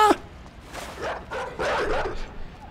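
Dog in a video game barking and yipping at the player, a few sharp yaps and whiny barks at moderate distance over soft ambient game sound.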